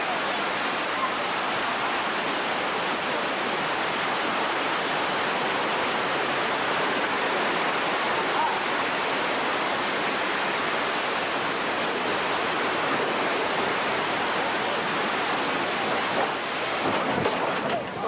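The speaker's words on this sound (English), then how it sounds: "Water main goes on my side." Water main bursting effect on a Universal Studios ride, a loud, steady roaring rush of gushing water that fills the whole stretch without pause.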